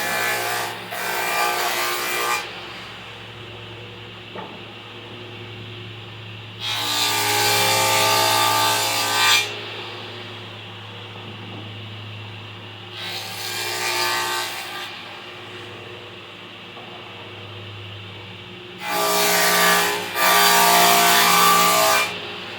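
A wooden raised panel is sanded by hand in four long bursts of loud, close rasping and rubbing, each lasting a few seconds, separated by quieter pauses with no talk.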